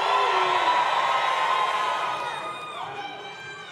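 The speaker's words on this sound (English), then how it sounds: "And one large yell of excitement" A large audience at an educational ceremony lets out one big excited yell and cheer, loud and sustained at first, then tapering off with scattered whoops.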